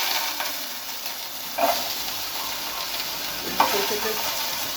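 Mustard frying in a pan gives a steady close sizzle, broken by a couple of louder scraping stirs with a utensil against the pan surface.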